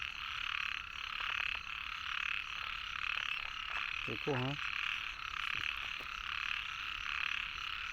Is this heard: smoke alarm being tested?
no